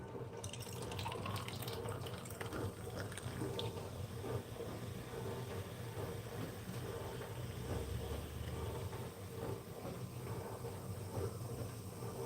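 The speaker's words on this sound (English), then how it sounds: "And then what I do is I pour the remaining bit in." Liquid is poured steadily into a container, a continuous close splashing and trickling that runs unbroken throughout with no talking over it.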